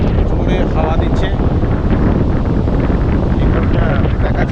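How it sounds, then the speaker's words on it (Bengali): Strong wind buffets the microphone at Tajpur sea beach, a loud, continuous rumbling roar with a faint voice partly buried beneath it. "জোরে হাওয়া দিচ্ছে।"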